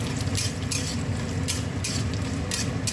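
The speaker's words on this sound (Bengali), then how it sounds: "এবার বড়িগুলোকে ভালোভাবে ভেজে তুলে নেব" Bori lentil dumplings fry in oil in a pan, giving a steady close sizzle with repeated scraping stirs at regular intervals throughout.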